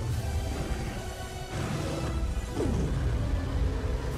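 Crashing and smashing in a stop-motion film scene of Kong shattering a frozen Godzilla into pieces, a dense, loud sustained roar of impacts and debris with a swooshing sweep partway through.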